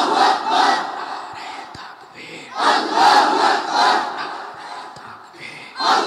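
A large crowd at a religious gathering chants in loud, surging unison, with several swelling bursts of massed voices answering in turn, the way a congregation roars a takbir chant of Allahu Akbar.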